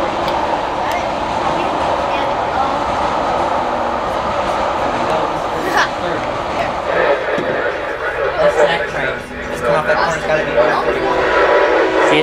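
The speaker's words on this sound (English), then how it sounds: "CSX Q something coming by Folkston on track 2." A CSX freight train rolls past on track 2 at Folkston, Georgia, with a loud, continuous rumble and clatter of wagons filling the whole twelve seconds.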